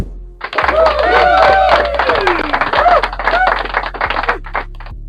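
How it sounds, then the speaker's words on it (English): A cheer sound effect played from a V8 sound card: a crowd whooping and shouting over clattering claps, loud and steady for about five seconds. "So let's start with cheer."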